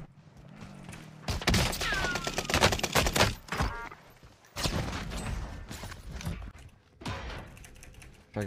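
Gunfire in the video game Warzone with a shotgun in play, several loud bursts of rapid shots separated by short pauses, with clattering mechanical handling sounds between them, close and sharp.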